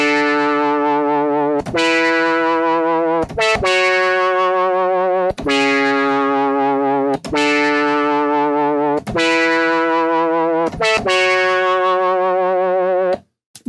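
A bright, buzzy Korg MS-20 synthesizer lead from two saw oscillators at 16 feet plays a series of sustained notes with short gaps between them, rich and harmonically dense, ending abruptly.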